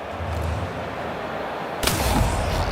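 A gunshot headshot in the shooter game The Outer Worlds 2 lands as a sudden sharp blast partway through, cutting across a steady low ambient bed and followed by a short rumbling tail.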